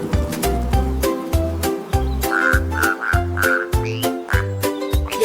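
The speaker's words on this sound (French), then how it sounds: "Les abeilles bourdonnaient doucement et les grenouilles commençaient." Frogs croak in a children's song, making rhythmic, regular low croaks in a repeating pattern. Music and higher chirping tones are layered over them.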